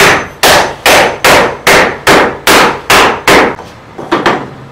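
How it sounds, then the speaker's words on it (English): A reasonable-size hammer pounds a scrap of wood laid on masonite for a workbench top, with about eight loud, evenly spaced blows followed by a few quicker, lighter taps, close and sharp. "The standby, however, is a scrap of wood and a reasonable size hammer."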